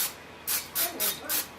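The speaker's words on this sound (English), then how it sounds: "And I just spray them with some Pam." Cooking spray (Pam) hisses onto a Copper Chef pan in a quick series of short bursts, one longer spritz followed by four brief puffs, close and clear.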